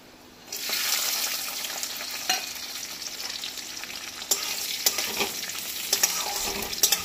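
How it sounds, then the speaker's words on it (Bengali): Cashews and raisins sizzle hard in hot oil in a pan, a bright, continuous frying hiss that starts suddenly and carries on with light stirring clicks throughout. "এই কাজু আর কিশমিশটাকে একটু ভালো করে আগে লাল লাল করে ভেজে নেব।"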